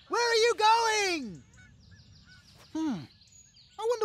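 Cartoon birds give loud, harmonic goose-like honks, two long calls at the start followed by shorter honks a moment later, close and clear with quiet gaps between them.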